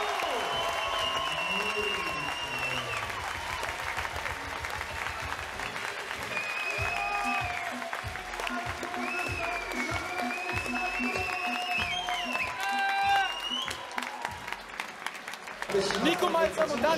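Loud crowd applause ringing through a hall after an amateur boxing bout, clapping and cheering kept up underneath an announcer talking over a PA, with a short burst of fresh clapping at the end.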